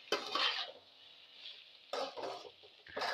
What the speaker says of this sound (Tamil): இப்போ உப்பு நல்லா கிளறி விட்டுக்கலாம்.